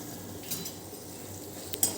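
Vegetables with ginger being stirred in a pan, a soft continuous scraping and light sizzle at moderate distance, with a couple of brief utensil clinks near the end.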